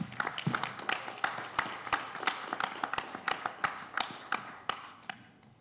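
Scattered applause from a small audience at a board of education meeting, a few people clapping unevenly in a quiet room, with sharp individual claps rather than a dense roar.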